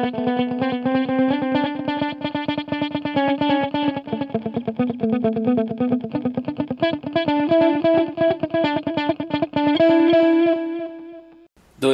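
Electric guitar played through an overdrive pedal set to low drive, strummed in a steady, rapid rhythm of mildly crunchy chords for about ten seconds, loud and close, ending with a sustained chord and an abrupt stop.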